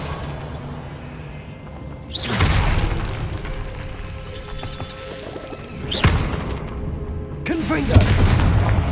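Repeated Confringo fire-spell blasts in Hogwarts Legacy, three heavy booming explosions a few seconds apart, each a sharp crackling burst that rumbles on over a steady background, with some voice underneath.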